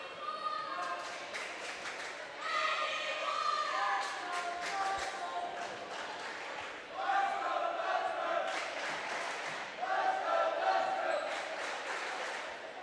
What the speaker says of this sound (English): you hear the crowd come alive here at